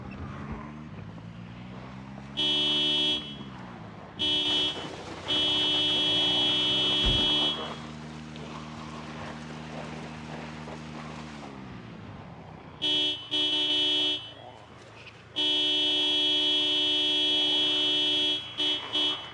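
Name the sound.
car horn honking in the video game Project Zomboid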